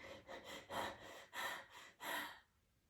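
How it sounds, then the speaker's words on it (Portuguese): Anxious breathing is demonstrated by a person: four or five quick, rhythmic, audible breaths in close succession, each a short airy rush, before falling quiet. "A mesma respiração da ansiedade."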